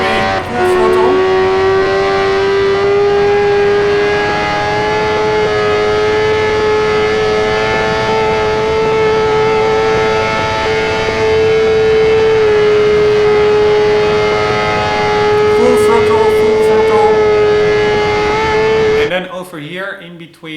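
A racing car engine at full throttle in Project Gotham Racing 4, holding a loud, sustained high-pitched drone with only slight shifts in pitch for about twenty seconds before cutting off abruptly.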